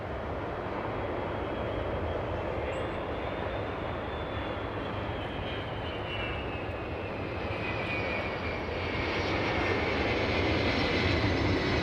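A Boeing 767 arriving at LAX from JFK roars steadily at a distance, a broad airliner engine rumble with a thin whining tone that slowly falls in pitch over about twelve seconds.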